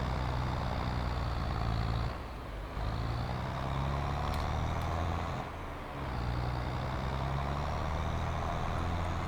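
A loader tractor's diesel engine runs steadily while it loads manure, a loud constant drone that briefly eases twice as the load changes, with no voices.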